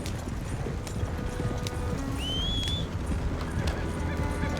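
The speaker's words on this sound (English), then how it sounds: "I do need my horse to follow me." Horse hooves clip-clop steadily in Red Dead Redemption 2, a close, even rhythm of hoofbeats over a continuous background, with a brief whinny partway through.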